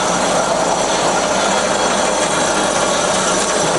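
Cosen C-320NC fully automatic double column bandsaw making a cleaning cut through metal stock, a steady loud continuous cutting roar and hiss with no breaks, close and alone.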